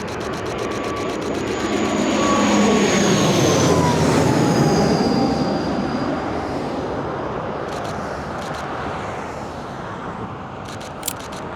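An airliner coming in to land passes overhead near an airport, a loud rising and falling jet roar with descending engine whine that swells, peaks and slowly fades, with faint birdsong late on.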